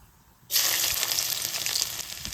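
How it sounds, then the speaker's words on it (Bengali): Cumin seeds and chopped garlic dropped into hot oil, setting off a sudden loud sizzle that bursts in after a quiet start and keeps crackling steadily close up, fading slightly toward the end. "তেলের মধ্যে সামান্য জিরে দিয়ে দেবো কোচানো রসুন"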